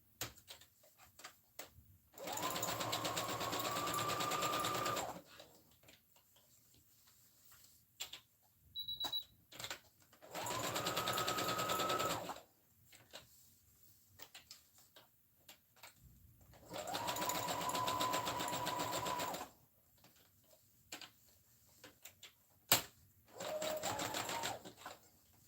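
Sewing machine stitching back and forth across fabric with elastic, four steady whirring bursts of a few seconds each separated by quiet pauses, close and clear with faint handling noises between.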